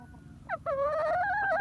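Lapido Gray laying hens give a short, close cluck followed by a sustained, wavering vocal note, rising clearly above a low background rumble.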